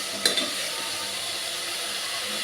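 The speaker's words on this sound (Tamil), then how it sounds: "இப்போ வந்து இஞ்சி பூண்டு பேஸ்ட்டு இந்த விருதையும் நம்ம போட்டுக்கலாம் நல்லா கிண்டிக்கலாம் நல்லா வணக்கி விட்டுறலாம்" Ginger garlic paste stirred and sautéed in a hot pan for onion pulao, a steady soft sizzle with a brief sharper scrape of a spoon near the start, close and alone without talk.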